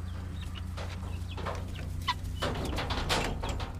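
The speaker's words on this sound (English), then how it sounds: "So we got some 3 or 4 week old guineas in with the mama here." Guinea fowl hen with three- to four-week-old guinea chicks, giving scattered clucks and short calls near and far, with small chirps breaking through a steady low background hum.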